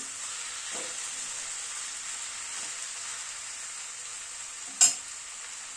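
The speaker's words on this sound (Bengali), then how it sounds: "স্পিনাচটাকে কিন্তু মশলার সাথে কষিয়ে নিতে হবে একটু।" Spinach stir-fried with spices for a dal dish, giving a steady, moderate sizzle and hiss throughout, with a sharp clatter of a spoon or lid near the end.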